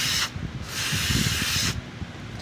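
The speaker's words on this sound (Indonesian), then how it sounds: "ini kita bisa menggunakan ini ya, kontak cleaner lah. Ini kita semprot seperti ini." Contact cleaner sprayed onto the circuit board of a Sanyo 21-inch flat-screen CRT TV: a short hiss cut off at the start, then a longer, loud, close aerosol spray burst lasting about a second, with quiet handling noise in between.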